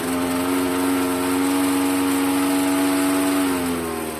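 A Homelite 20-inch push mower engine runs steadily close by, its hum climbing slightly as it revs and then settling back, loud and continuous with no voices.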